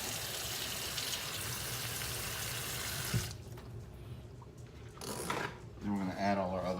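Kitchen tap running as hands are rinsed under it, a steady loud rush of water for about three seconds before it cuts off, followed by brief clatter and a voice.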